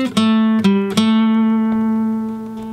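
A slow double stop blues lick on guitar: a few plucked two-note chords with pitch bends in the first second, then a sustained ringing chord that decays slowly, alone without talk.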